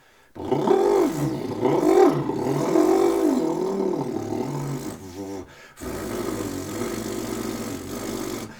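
A voice makes a growling, roaring vocal sound with a lip roll, rolling, fluttering lips, in rough pulsing bursts with a short break before continuing.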